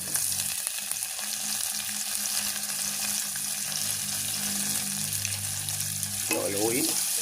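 Tomatoes frying and being stirred in a pan, a steady close sizzle with scraping stir noises running throughout, and a brief voice near the end.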